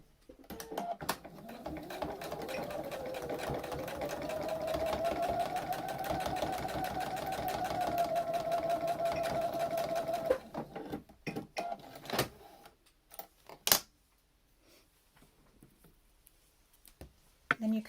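A sewing machine top stitches along the folded edge of a fabric face mask, running steadily for about ten seconds, then stopping, followed by scattered clicks and handling noises.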